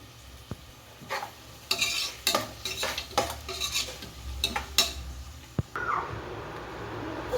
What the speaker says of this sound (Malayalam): ഇഞ്ചി വെളുത്തുള്ളിയും ചേർത്ത് കൊടുക്കാം. നല്ലോണം ബ്രൗൺ നിറമാവട്ടെ.